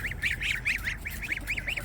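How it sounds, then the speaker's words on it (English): Baby geese, including African and white Chinese goslings, give rapid high peeping honks in a quick repeating series, close and clear over a low outdoor rumble. "So here is the baby geese that we hatched out"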